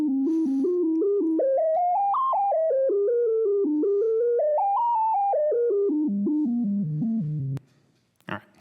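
An experimental motor-driven electronic instrument with a rubber friction belt plays a smooth, gliding tonal phrase that climbs and falls in steps, loud and close, then cuts off into a short rough snap.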